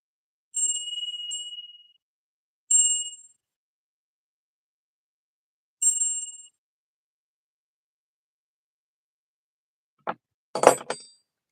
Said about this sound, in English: For anyone who is triggered by bells, 3 rings coming up.